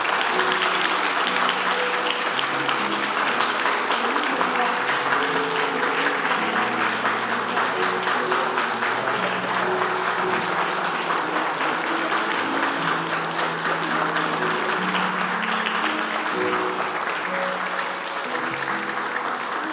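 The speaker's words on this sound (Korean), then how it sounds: "다시 한번 뜨겁게 박수로 환영해 주시기 바랍니다" A congregation at a Sunday worship service in a Korean church applauds warmly and without pause for about twenty seconds, steady clapping layered over soft music.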